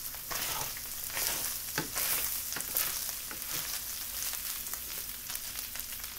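Meat and onions fry in a pan with a steady soft sizzle, punctuated by occasional scraping stirs and clicks, close and quiet with no voices.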